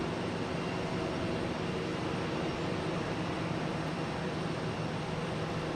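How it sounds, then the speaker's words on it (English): Alaska Airlines Boeing 737 MAX 9 from San Diego landing at Boston Logan, a steady broadband jet roar held at an even, moderate level throughout with no voices. "I have an Alaskan Airlines coming in from San Diego"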